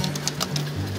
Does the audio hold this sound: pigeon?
yes